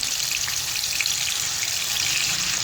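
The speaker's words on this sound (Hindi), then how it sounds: "और एक साइड से इसे फ्राई होने के लिए छोड़ देंगे तकरीबन 2 से 3 मिनट के लिए।" Chicken pieces for Afghani chicken gravy fry in a pan, giving a steady, even sizzle that holds unbroken throughout with no voices.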